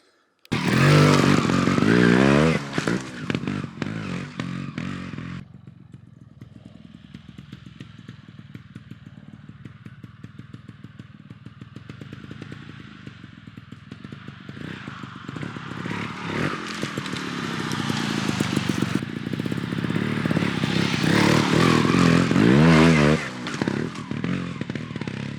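A trials motorcycle picks its way over roots and then up a hill, its engine blipping and revving in loud bursts with clattering and scraping in between, pulling hard near the end of the climb.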